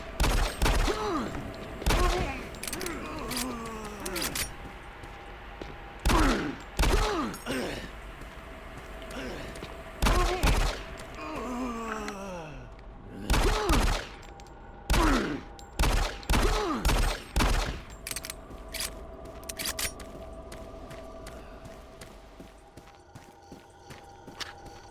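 Pistol shots fired at zombies in the Doom 3 video game ring out in sharp, repeated bursts, often several in quick succession, with growling creature sounds and eerie ambience in between.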